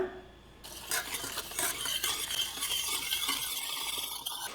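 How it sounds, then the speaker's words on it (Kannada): A spoon stirs cocoa and sugar into milk steadily in a pot, with soft scraping and light clinks against the sides, close up and continuous. "ಫಸ್ಟು ಇದೆಲ್ಲದನ್ನು ಗಂಟುಗಳು ಏನೂ ಇಲ್ದಲೆ ಮಿಕ್ಸ್ ಮಾಡ್ಕೊಳ್ಳೋಣ"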